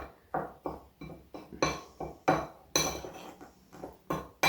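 Dry rub spices being mixed in a bowl for a Moroccan-inspired blend, with a run of repeated clinking scrapes and taps of utensil against the bowl in an uneven rhythm, close and fairly clear.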